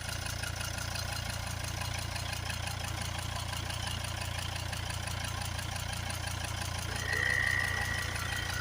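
A Volvo XC90 2.4 D5 diesel engine idles steadily with a low, even rumble and faint rattling, close by; a brief whine of the compressor kicking in rises near the end.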